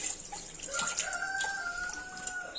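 Rocky, a rooster, clucks and crows close by in a short burst of calls, with a faint trickle of water alongside.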